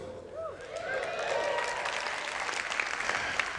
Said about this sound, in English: That was kind of weak, kind of applause there, though.